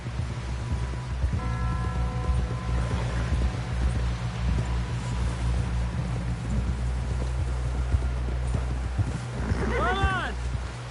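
Steady horse hoofbeats clopping along in the video game Red Dead Redemption 2, over a low rumbling wind-like background, with a brief voice-like sound rising near the end.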